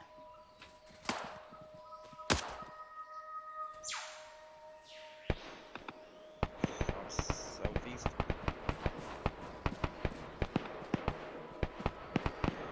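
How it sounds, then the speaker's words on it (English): Distant suppressed gunfire in the Arma 3 military shooter game, heard as many sharp little clicks and pops that grow denser and keep coming in the second half, under a voice on radio chatter. "So you can hear the suppressed, like, little clicks."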